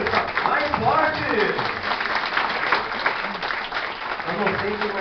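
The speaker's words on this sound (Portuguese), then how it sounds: "uma salva de palmas para o nosso engenheiro" Audience applause for an engineer at a prize-giving ceremony, a sustained wash of clapping from a crowd, with voices talking and calling over it.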